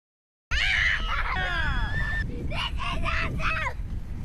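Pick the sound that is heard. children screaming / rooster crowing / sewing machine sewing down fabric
children screaming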